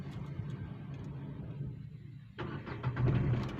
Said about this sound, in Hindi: फिर गाड़ी को करेंगे स्टार्ट